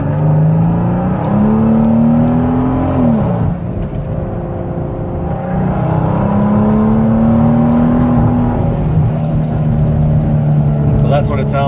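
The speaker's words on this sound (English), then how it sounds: "So that's what it sounds like, full throttle." A car engine is pushed at full throttle in loud pulls, pitch climbing through gears with brief drops at shifts, heard close from inside with a voice briefly over it.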